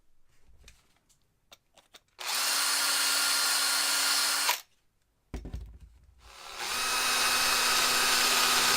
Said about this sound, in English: So I drilled the 4 holes for the 4 connectors.